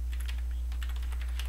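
Soft keystrokes tap on a computer keyboard in an irregular run of quick clicks over a low, steady electrical hum, faint and close with no voices.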